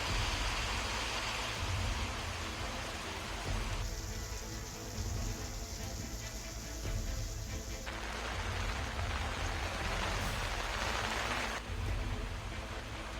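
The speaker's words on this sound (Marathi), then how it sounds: "तर सिंधुदुर्ग जिल्ह्यात मुसळधार पाऊस पडलाय." Heavy rain pours in Sindhudurg district, a dense, steady hiss of falling water that continues for the whole stretch with only slight shifts in intensity.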